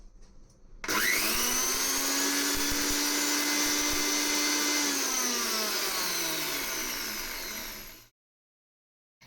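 A mixer grinder whirs as it grinds moong dal for a coconut halwa, starting abruptly, holding a steady high motor drone that slowly drops in pitch, then cutting off into silence near the end.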